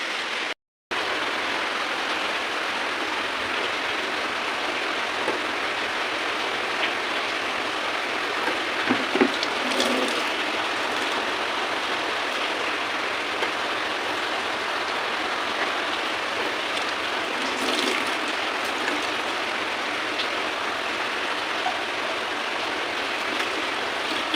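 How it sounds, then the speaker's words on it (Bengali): Steady rain pours down, a continuous dense patter on surfaces with a few louder drips and splashes, no voices. "যেমন হাওয়া দিচ্ছে তেমনি বৃষ্টি হোক"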